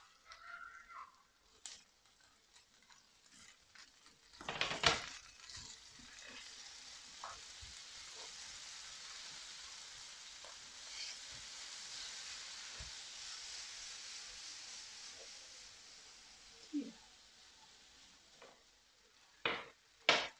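Tomato dropped into a pan of browning ingredients sets off a steady sizzle and fry that hisses on continuously, broken by a few louder clacks and stirring knocks.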